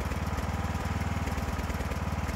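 A small engine idles steadily nearby with its idle set too high after a valve seat repair, a fast even putter with a low rhythmic chug and no talking.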